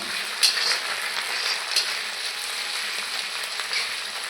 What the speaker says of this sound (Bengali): এখন আমি দিয়ে দিচ্ছি সেদ্ধ করে রাখা মাছ ভালো করে একটু ভেজে নেব